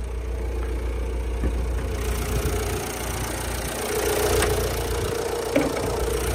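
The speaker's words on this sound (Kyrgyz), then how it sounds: "Мотор жагы мощный от алып турат. Эч бир лишний звук жок." A Kia K5 car engine idles with the hood open, giving a steady, fairly loud low hum with a slight mechanical rattle and no voices.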